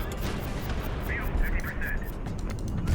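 A ship's gun firing in the naval combat game Highfleet, heavy booming blasts and rumbling bursts spread across a few seconds, loud and close, with a voice talking over them.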